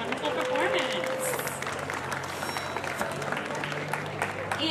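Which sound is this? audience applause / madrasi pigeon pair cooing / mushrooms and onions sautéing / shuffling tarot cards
audience applause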